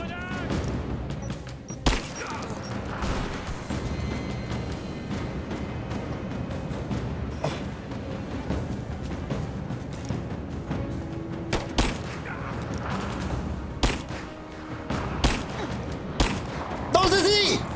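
Rise of the Tomb Raider combat: a dense, continuous barrage of gunfire with scattered sharp blasts and a grenade explosion, loud and chaotic for the whole stretch with no clear pauses.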